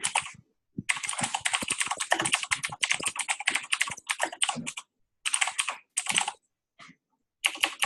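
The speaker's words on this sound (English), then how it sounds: "my keyboard's just really loud. It's the pitfalls of a mechanical keyboard" Rapid, clacking keystrokes from a loud mechanical keyboard come in close, dense bursts separated by short pauses, with no talking.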